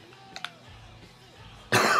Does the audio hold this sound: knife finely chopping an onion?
no